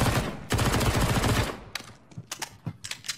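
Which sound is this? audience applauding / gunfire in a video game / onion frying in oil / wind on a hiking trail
gunfire in a video game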